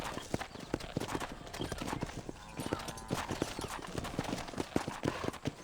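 Steady rhythmic clip-clop of horse hooves trotting on hard ground in Red Dead Redemption, continuous and fairly close, with a brief whinny mixed in.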